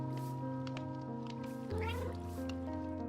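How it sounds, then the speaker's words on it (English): A cat in the video game Gothic Remake meows and caterwauls over a steady drone of game music and ambience, with a few calls in a row standing out clearly near the middle. "I hear a kitty."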